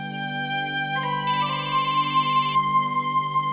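A mobile phone rings with an electronic ringtone, a bright chiming melody that swells in loudly for about a second over a steady low household hum, then cuts back to the background, with no voices.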